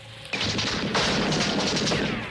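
Gunfire in a jungle action film scene in Panama, a burst of loud sharp shots with echoing booms over about two seconds, no voices.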